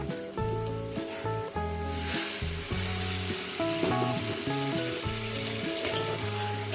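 Katla fish curry pieces and potatoes sauté in a pan with a steady, close frying sizzle, while instrumental music with sustained tones plays underneath.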